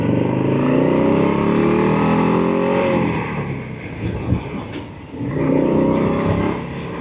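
A Harley-Davidson Street Bob motorcycle ridden on a road in road mode, its engine droning steadily near the microphone with a dip and swell in revs midway.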